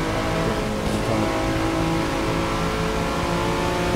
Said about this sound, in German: wie der Sound von diesem Auto sich hier anhört